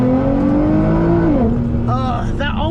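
A 2012 Nissan GT-R engine revs up in a rising, droning pitch, then drops and climbs again as the car pulls away, loud and close, with a voice talking over it.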